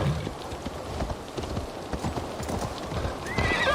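A horse gallops in Assassin's Creed Valhalla, its hooves clip-clopping in a rapid, steady rhythm close by, with a brief whinny and no talk over it.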